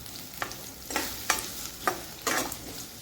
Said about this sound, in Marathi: कांदा टाकल्यानंतर हा कांदा आपल्याला परतून घ्यायचा